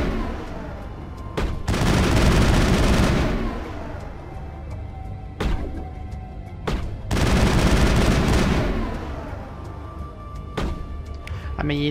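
Rifle gunfire in the video game Mass Effect, with two long dense bursts of rapid shots separated by single sharp cracks, loud and close over a steady background rumble.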